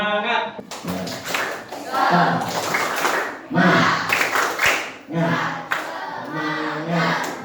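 Rhythmic tepuk semangat clapping by a sixth-grade class, sharp patterned claps mixed with children chanting along in loud bursts.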